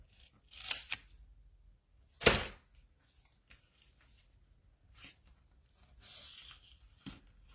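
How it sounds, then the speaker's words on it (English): Scissors trim a paper seam in a quiet craft setting, with a few crisp snips, one louder cut, and light paper rustling between them. "I'm just going to take my scissors and trim this off a little bit"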